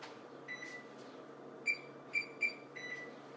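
An oven control panel emits several short electronic beeps while it is set to preheat to 375, a few isolated tones with one quick group in the middle, faint against a quiet kitchen.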